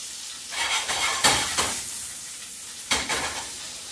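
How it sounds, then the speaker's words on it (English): Sage leaves hit foaming salted butter in a pan and sizzle loudly, with crackling bursts and stirring swells close by, no talk. "So my butter's foaming. Sage in."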